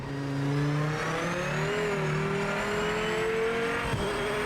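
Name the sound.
race car engine and tires in Project Motor Racing video game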